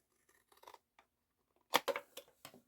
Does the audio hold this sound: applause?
no